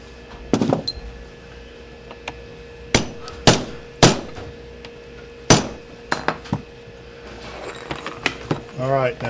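Sharp hammer blows doming over saddle rivets, about nine metallic strikes in an uneven rhythm, each ringing briefly, close and loud in a leatherwork shop with a low background hum.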